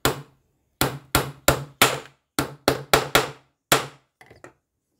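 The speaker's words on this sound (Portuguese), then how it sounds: "Bater um preguinho aqui, né?" Small nail driven with an old little hammer while making an Easter decoration piece: ten sharp, close metallic strikes in an uneven rhythm, then a few faint light taps at the end.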